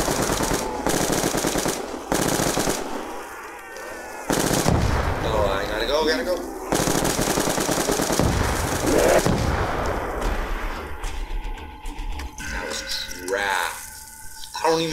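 Rapid automatic gunfire in Black Ops II Zombies, loud bursts of machine-gun fire separated by short pauses, with game sound effects and a player speaking in between.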